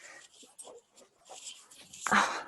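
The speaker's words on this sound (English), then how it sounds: "my dog" A dog whimpers and pants in short, faint bursts close by, mixed in with a person speaking, before a louder rustle at the end.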